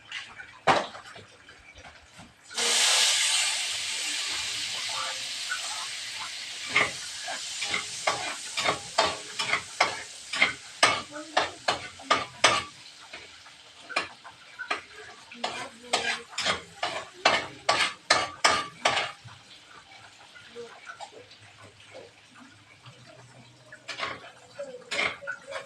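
Vegetables sauté in a pan with a burst of sizzling hiss, then a long run of sharp rhythmic clinks as a metal utensil stirs and scrapes, easing to quieter occasional taps.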